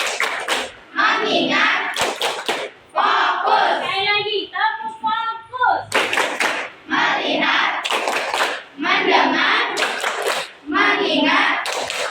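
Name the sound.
class rhythmic clapping game, tepuk fokus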